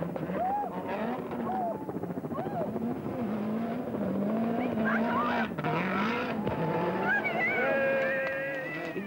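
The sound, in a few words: Toyota rally car driving on a stage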